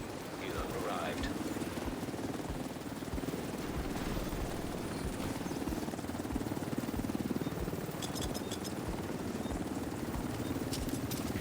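Helicopter arriving for extraction in the video game The Division 2, a steady rotor drone with rhythmic low thumping that holds throughout, mixed with game ambience and scattered higher clicks.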